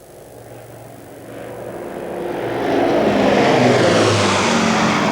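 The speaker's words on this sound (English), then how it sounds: "As the Lancaster bombers of 617 Squadron set course for their targets in Germany" Lancaster bomber piston engines of 617 Squadron droning as the planes set course for Germany, a low propeller roar swelling louder over a few seconds into a steady heavy rumble, no voices.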